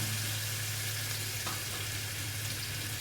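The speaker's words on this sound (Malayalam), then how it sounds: "അപ്പോൾ നമുക്ക് ഇതിലേക്ക് ആവശ്യമുള്ള സവോള ഇട്ട് കൊടുക്കാം" Sliced onions sizzle steadily in hot oil in a pan while cooking biryani, a constant, moderately loud frying hiss with no pauses.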